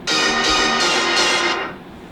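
Bright synth stabs hit in quick succession, four bursts washed in heavy reverb that blurs them into a dense shimmering wall before fading.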